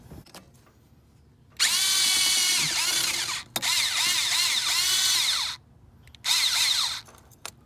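A power tool spins a 5/16 socket onto the bolts of a 2001 Ford 7.3 Powerstroke truck, whirring in three loud, close bursts separated by short pauses, with no talking.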